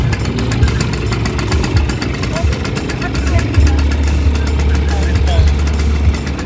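A motorcycle at a bike week event in Sibu idles with a steady, slightly knocking low rumble, close and loud, while people talk nearby over it.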